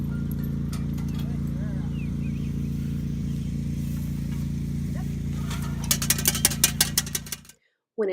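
Hooves clip-clop on a hard road in a quick run of sharp knocks near the end, over a steady low engine hum, then the sound cuts off.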